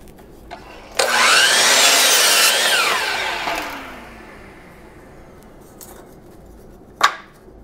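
A saw cuts through a wooden board for a wooden Christmas tree in one loud rasping burst of about three seconds that tapers off, followed by quiet and a single sharp knock of wood.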